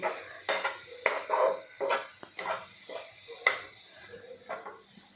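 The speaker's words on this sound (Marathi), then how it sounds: "आता हे सगळं आपण मिक्स करून घेऊ" Condensed milk mixture for malai modak being stirred in a bowl, a series of soft scraping and clinking strokes at an uneven rhythm, close and fairly quiet with pauses between movements.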